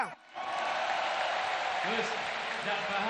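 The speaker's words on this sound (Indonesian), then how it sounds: "luar biasa, tepuk tangan untuk kita semua." A crowd at a large outdoor campaign rally breaks into sustained applause, dense clapping that swells after a brief dip and continues steadily, with a voice over a loudspeaker sounding above it.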